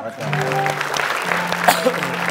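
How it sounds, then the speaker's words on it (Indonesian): Studio audience clapping on an Indonesian TV comedy show, a sustained wash of applause lasting a couple of seconds, with people talking over it. "Bagus, tepuk tangan dulu dong."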